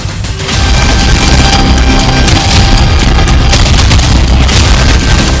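A loud blast erupts suddenly in Kharkiv, Ukraine, during a Russian bombardment, followed by a sustained, roaring rumble and crackling debris that fills the air for several seconds.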